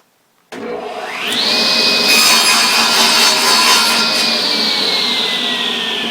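A table saw or similar power saw makes a test cut in wood while building wedding invite boxes: the motor spins up with a rising whine, then runs loud and steady as the blade passes through the wood.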